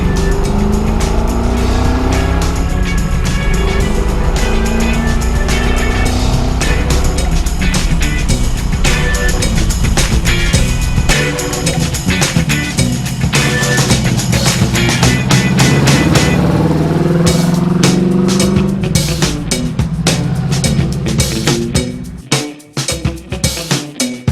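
A 1975 Pontiac Firebird Formula with a 350 V8 and four-speed manual being driven, a loud continuous engine roar rising and falling through gear changes, heard from close by, then dropping away near the end.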